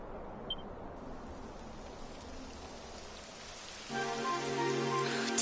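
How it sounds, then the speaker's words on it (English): Rain falling in the video game Dragon Quest XI, a soft, even hiss of steady rainfall with no voices over it, joined near the end by a louder sustained layer of game sound. "It would have to go and start raining, wouldn't it?"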